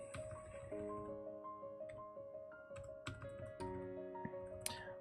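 Computer keyboard typing while a video game is played: quick, soft key clicks come in uneven bursts, close but quiet, beneath game music made of steady sustained tones.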